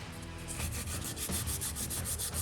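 Sandpaper rubbed by hand over dried body filler on an Epiphone Elitist Les Paul guitar, a steady scratchy rasp in repeated back-and-forth strokes, close and continuous.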